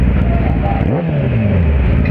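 A Kawasaki ZX-10R motorcycle exhaust revs up with a rising whine, its pitch sweeping higher, loud and close amid rumbling traffic noise.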